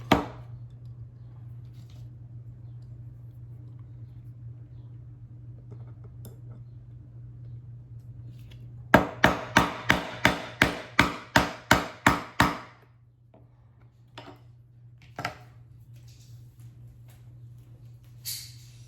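About ten sharp, evenly spaced hammer blows drive a rivet burr against a steel plate while making a leather sport shooting bag, set over a low steady hum, followed by a few scattered taps.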